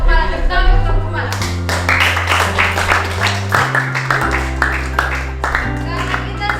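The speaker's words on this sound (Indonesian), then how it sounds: "Tepuk tangan" In a junior high classroom in Maluku Tengah, students clap after a group presentation, giving scattered, uneven claps that mix with a teacher's voice and chatter, with the loudest stretch at the start.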